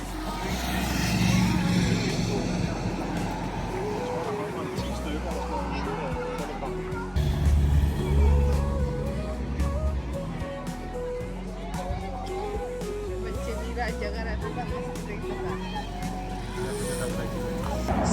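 Sponsor car driving along the route of a World Tour cycling race in Copenhagen, a low engine rumble passing amid crowd hubbub, with people talking nearby throughout.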